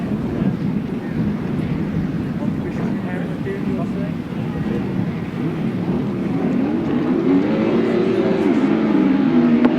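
Racing engines from right-hand sidecar outfits at a 2011 grasstrack championship race drone and swell, rising toward the end, while a commentator talks over them across an open, windy track.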